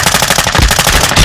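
Heavy automatic gunfire in Call of Duty: Modern Warfare II, a loud, rapid, unbroken stream of shots close by, dense and harsh from start to finish.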